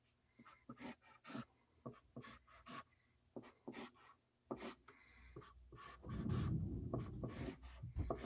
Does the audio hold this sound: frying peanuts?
no